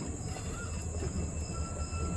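A train rake being shunted at Tuticorin railway station, a low continuous rumble of rolling stock with faint wheel squeal and steady background hum, moderately distant, with no talking.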